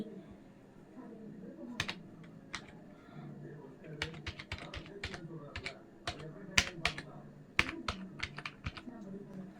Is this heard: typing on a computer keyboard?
yes